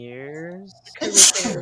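A sharp sneeze bursts out during a casual online game jam chat, loud and close to the microphone, right after a person speaks a few words.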